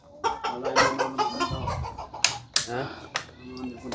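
Chickens cluck close by in a rural yard, a busy run of short, repeated clucks and squawks with a few sharp slaps among them.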